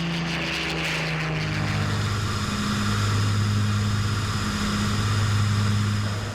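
A wooden WWII propeller aircraft painted as F for Freddie flies nearby on a test flight, its engines giving a loud, continuous droning roar whose pitch shifts partway through.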